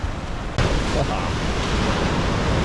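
Ocean waves breaking on rocks along the Kalbarri coast in Western Australia, a loud continuous roaring wash of surf heard close by, with no speech over it.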